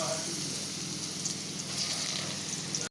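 Grated bottle gourd sizzles and fries steadily in hot ghee in a pan for milk-based halwa, a dense continuous crackle that stays close and even before cutting off abruptly at the end.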